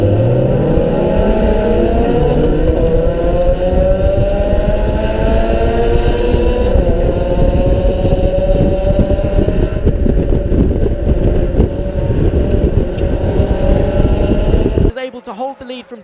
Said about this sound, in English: grid of MX-5s all lined up